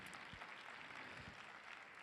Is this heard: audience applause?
yes